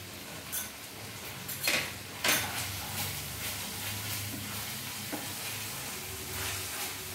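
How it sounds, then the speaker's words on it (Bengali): Vegetables sizzle and fry in a pan as they are stirred with ground pepper, steady low crackle punctuated by a few sharp scrapes and clatters of the spoon against the pan, close and moderately quiet. "সবজির সাথে ভালোভাবে মিশিয়ে নিলাম।"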